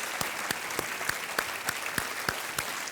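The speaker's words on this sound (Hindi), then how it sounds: "तालियों के साथ आपका हम अभिनंदन करते हैं" Studio audience applause on the TV quiz show Kaun Banega Crorepati, a steady wash of clapping with a few sharper claps standing out at a regular pace.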